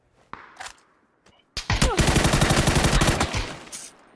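Automatic rifle fire in the video game PUBG, a few sparse shots followed by a long loud sustained burst of rapid rattling fire lasting over two seconds.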